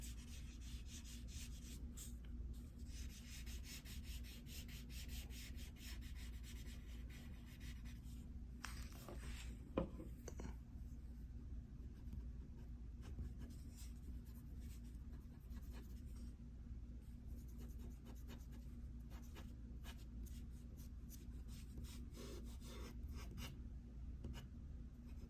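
An artist's paper blending stump rubbing across a drawing, a steady soft scratchy rasp of close strokes running continuously for the whole stretch, with one brief louder scuff midway.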